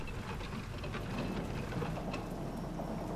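Rain falls steadily in the video game Saw 2: Flesh & Blood, a dense continuous hiss with a low rumbling undertone, moderately quiet and unbroken, with no speech.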